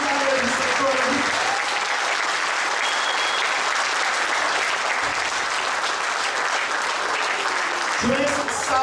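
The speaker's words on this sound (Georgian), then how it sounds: "ტაში გაუგზავნოთ აქედან იტალიის სექტორები" A concert audience applauding: dense, sustained clapping from a large crowd, loud and steady throughout, with a few brief tonal sounds near the start and end.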